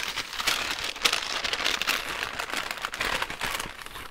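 A paper bag sealed with a sticker is torn open and handled, giving a continuous close-up crinkling and rustling with sharp little crackles throughout.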